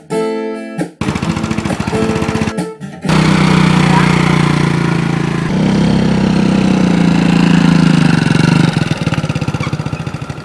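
A motorcycle engine idles, then revs up and pulls away, its steady mid-pitched drone lasting several seconds after a few short choppy bursts at the start, with a rough rattle as it fades near the end.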